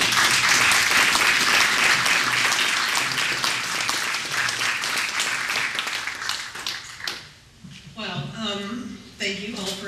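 An audience at a 2012 Alameda city council candidates forum breaks into sustained applause, dense and loud for about seven seconds before fading as a speaker's voice takes over.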